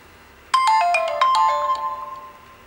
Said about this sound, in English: So you'd just get a notification at the top